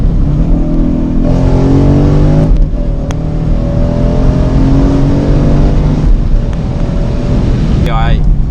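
A Ford Mustang GT500 on a city street drops a gear and accelerates hard. The engine roars loud and close throughout, its pitch climbing steadily.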